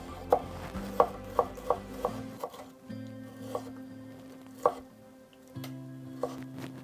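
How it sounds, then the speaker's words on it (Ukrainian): A knife chops a tomato into cubes on a cutting board, sharp taps in an uneven rhythm, close and fairly quiet with a faint hum underneath. "Розрізаю навпіл, нарізаю дольками і нарізаю кубиками."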